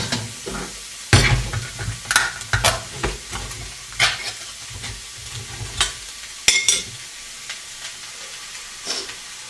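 Chopped tomatoes being stirred into frying spices for chilli: sharp sizzling bursts and scraping stirs in a hot pan, irregular and close, with no voice.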